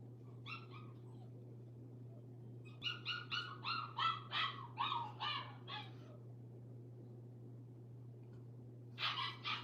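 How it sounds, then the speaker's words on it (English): A newly acquired dog whimpers and cries in bursts of high, strained whines, a short one first, then a long run of rhythmic yelps and a final loud cry, over a steady low hum. "I got this new dog. And that bitch cries"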